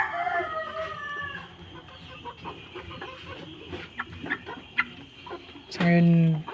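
Farm chickens clucking while they feed, with scattered pecking and scratching and a loud crow near the end, over faint background voices.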